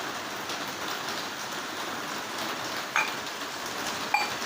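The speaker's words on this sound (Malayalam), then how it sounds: "പുറത്ത് ഭയങ്കര മഴയായതുകൊണ്ട് ഈ ഷീറ്റയിൽ വെള്ളം തട്ടുന്നതുകൊണ്ട് വോയിസ് ഒന്നും ക്ലിയർ ആവില്ല" Heavy rain drums steadily on a metal roof sheet, a dense, even roar with no letup and a couple of sharper drop impacts standing out.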